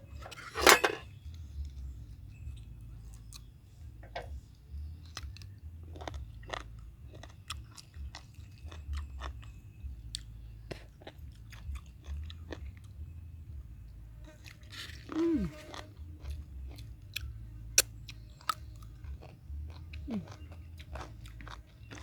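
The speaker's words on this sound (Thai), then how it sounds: "อันนี้กินหมูตุ๋น จิ้มน้ำจิ้ม" Close, steady chewing and biting of braised pork dipped in sauce, with soft wet mouth sounds, occasional clinks of dishes and cutlery, and a faint murmur in the background throughout.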